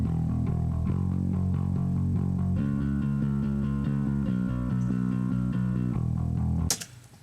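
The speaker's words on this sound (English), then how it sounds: "So again, here is the bass DI." A compressed direct-input bass guitar from a punk-rock song plays a steady, even line of thick, sustained notes, close and dry, ending in a short noisy burst.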